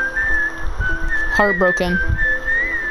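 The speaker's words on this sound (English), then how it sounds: "That whistling is from Kill Bill, so it's gonna get copyrighted." Someone whistles the Kill Bill film tune: a clear, close, sustained melodic whistle running throughout, with a brief spoken word partway through.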